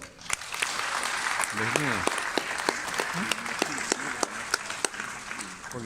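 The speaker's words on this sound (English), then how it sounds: "Ladies and gentlemen, can we give him a massive round of applause?" Audience applauding after a talk by a naturopathic doctor, a sustained crowd of clapping hands with sharp individual claps cutting through, while a voice speaks over the applause at moments.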